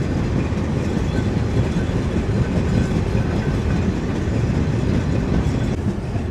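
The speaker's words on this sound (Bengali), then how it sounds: "এরপরেই আমাদের ট্রেন পৌঁছে যাবে ঢাকাতে। এখান থেকে 1 ঘন্টা লাগবে এই রূপসী বাংলা এক্সপ্রেস করে।" Onboard the Rupashi Bangla Express as it runs through Faridpur district toward Dhaka, a loud, steady rumble of wheels and carriages with a faint rhythmic clatter continues without pause and without talk.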